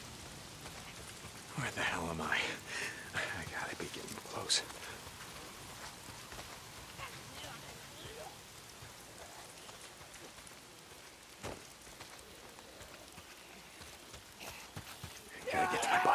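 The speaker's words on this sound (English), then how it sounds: "If it's not the freaks, it's the goddamn rain." Rain falls in the Days Gone video game world as a faint, steady patter on surfaces, with someone talking over it and a few louder in-game thumps and rustles.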